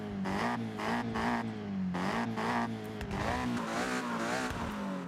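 A Ferrari F40 in the Forza Horizon racing game revs hard through repeated gear changes, with tires squealing under a loud, steady engine drone and no talking.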